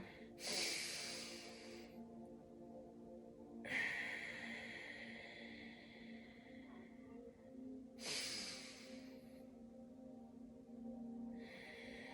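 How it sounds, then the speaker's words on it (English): Slow, deep belly breaths drawn in and pushed out through the nose, three long airy breath cycles close to the microphone and fairly quiet, each lasting a few seconds with pauses between. "when we breathe, we want to make sure that our bellies expands like a balloon"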